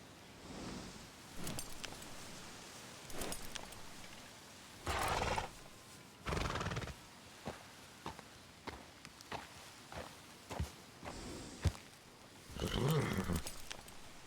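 In the video game Red Dead Redemption, a horse whinnies loudly a couple of times among scattered hoof clops and footsteps, with bursts of noisy movement in between.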